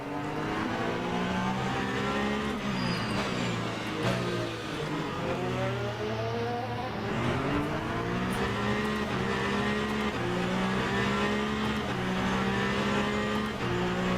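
Hypercar racing at Le Mans in Le Mans Ultimate: a steady, loud engine drone rising and falling through gear changes, with pitch sweeps as cars pass, running continuously.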